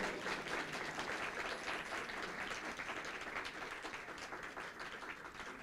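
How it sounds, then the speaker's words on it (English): An audience applauds steadily at a birthday celebration after a live singer's performance, a dense, sustained wash of clapping that holds at an even level throughout and tapers only slightly near the end. "shall we all give another massive round of applause to Sister Dana for her wonderful performance today."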